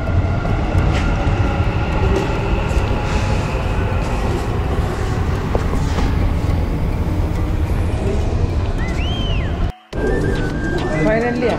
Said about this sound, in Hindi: आधा घन्टाको मेट्रो सफर पछि